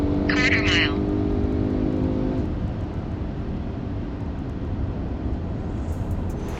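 Deep, steady roar of a 1000 bhp Manthey Racing Porsche GT2 RS engine, loud and constant throughout, with a brief tonal whine early on before settling into a rumbling drone.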